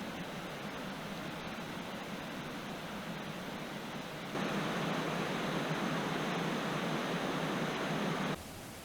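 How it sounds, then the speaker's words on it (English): Loud, fast rapids on a stream in the Kootenay Plains, a constant broadband roar of rushing water that grows stronger partway through before easing slightly at the end, with no talking. "So it's very hard rapids, very fast water."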